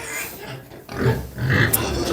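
Pigs on a farm squeal and grunt loudly at close range in rising, overlapping bursts, with a person talking over them.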